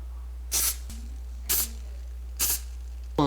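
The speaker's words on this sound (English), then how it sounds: "I'm pretty sure you're supposed to spray this with some non-stick spray" Non-stick cooking spray sprayed onto an egg cooker, four short hissing bursts spaced about a second apart over a steady low hum, close and clear.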